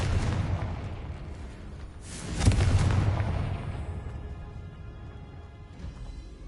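A fire-spell explosion in the Hogwarts Legacy video game bursts as one sharp, loud boom amid rumbling background action, its rolling tail fading over several seconds.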